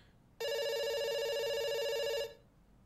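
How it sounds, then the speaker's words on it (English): A telephone rings inside a video game, one continuous electronic bell tone lasting about two seconds, loud and clear over a faint background with no talk. "It's ringing."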